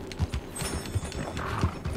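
A horse in the video game Red Dead Redemption 2 gives several soft hoof clops and low snorts in a steady, close rhythm over a faint ambient game backdrop.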